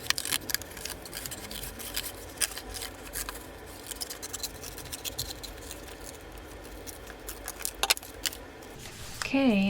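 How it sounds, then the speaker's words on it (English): Scissors snip through a paper pattern in a run of quick, close, crisp cuts with short pauses between them, and a brief voice comes in near the end. "So I'm just going to use the scissors to cut this out."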